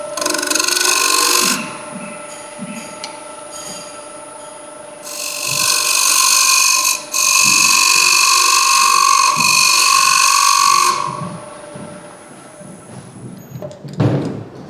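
A wood lathe spins as a skew chisel point and then a ball gouge cut a small groove in a turned piece, giving loud sustained scraping and whirring bursts with quieter gaps between cuts, and no talk.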